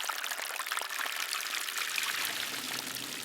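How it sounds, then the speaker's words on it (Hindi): Water pours steadily from a pitcher onto the base of a peepal tree, a continuous splashing stream that holds an even, moderate level throughout. "संतों ने पास में पड़ा भरा एक पानी का कलश पीपल में डाल दिया"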